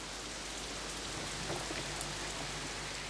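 Torrential rain pouring steadily outside a dinner-and-dance venue by a car park, a dense, continuous hiss with no voices.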